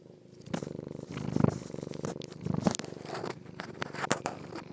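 A cat purrs right up against the microphone, a steady close rumble with a few louder swells, plus faint chewing or nibbling on the mic.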